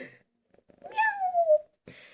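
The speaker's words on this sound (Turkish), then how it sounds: "Canım kedim." A pet cat gives a single drawn-out meow, clear and close in a quiet room, with a voice talking just before and after it.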